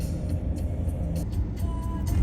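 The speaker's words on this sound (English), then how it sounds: "we are driving here on Chios" Car driving along a main road toward the main town on Chios, Greece: a steady low road rumble and tire hum holds throughout, with faint airy swishes drifting over it and no talk.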